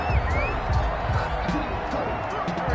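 Home crowd at an Eagles NFL football game cheering a referee's call, a steady broad roar with scattered whoops and claps, loud and continuous under a commentator's voice.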